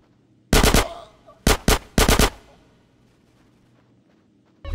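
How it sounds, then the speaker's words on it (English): Automatic gunfire in the video game GTA San Andreas Definitive Edition rattles out in three sharp, loud bursts, close and punchy, each decaying quickly into a brief echo. "Get some suppressing fire in there!"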